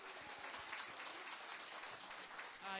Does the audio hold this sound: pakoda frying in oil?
no